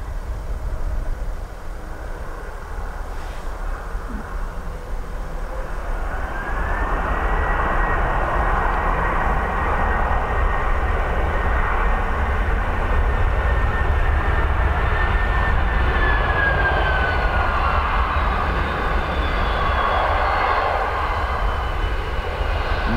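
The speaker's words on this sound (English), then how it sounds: "WestJet incoming." A WestJet airliner arriving at Dublin Airport produces a loud, sustained jet roar with a rising whine that steadies and then fades slightly, continuous and without talk.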